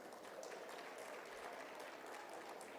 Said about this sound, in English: Kindly give her a round of applause